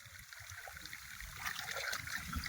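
Fast-flowing water rushes steadily through a field channel, a continuous close trickling and gurgling that swells slightly louder toward the end.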